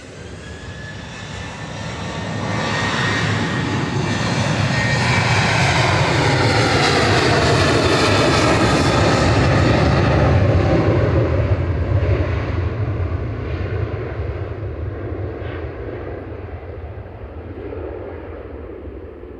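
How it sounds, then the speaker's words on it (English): Ryanair jet airliner taking off from Manchester Airport bound for Alicante, a loud roaring engine swell that builds, peaks and slowly fades as it passes, heard alone. "Ryanair departing now to Alicante, flight 4007"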